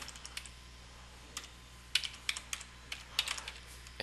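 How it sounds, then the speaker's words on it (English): Computer keyboard typing out a website domain name: a short, irregular burst of light keystroke clicks, close and fairly soft, over a low steady hum, with no voices. "We'll type in the domain name"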